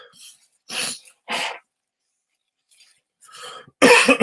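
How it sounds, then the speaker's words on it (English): Someone blows their nose in a few short, breathy honks separated by quiet gaps, with the last blast loudest and close by. "I just got to blow my nose for a second"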